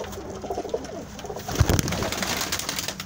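Flying pigeons cooing close by, soft repeated throaty coos over outdoor background noise, with a brief rustle or flutter in the middle.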